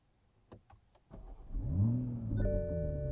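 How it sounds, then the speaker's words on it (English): A 2021 Toyota Supra 3.0 Premium starts at night: a few soft clicks first, then the starter catches and the engine flares up with a rising rev before settling to a steady idle, joined by a faint high chime tone. "Let's go ahead and start it up."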